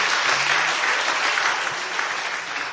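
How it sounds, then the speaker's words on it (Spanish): A church congregation claps together in steady, dense applause that fills the room, loud and continuous with no voices over it. "Den un aplauso al Señor"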